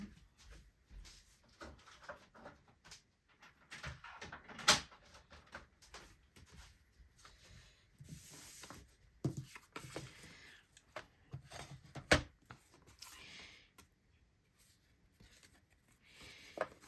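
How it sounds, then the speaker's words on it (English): Cardstock is cut and slid through a paper trimmer while making a card. Quiet scraping and sliding strokes come in short bursts with soft clicks and a few sharper taps, and no one speaks. "And then I'm going to take my paper trimmer"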